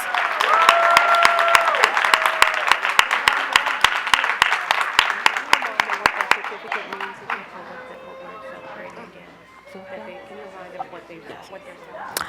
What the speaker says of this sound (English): can we have a round of applause for our outstanding iReady students?